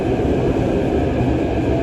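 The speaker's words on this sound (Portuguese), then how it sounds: "O metrô chegando aí." A metro train pulls into a station platform, a brief loud, close rumbling roar of wheels and motors, continuous and dense, with no talk heard.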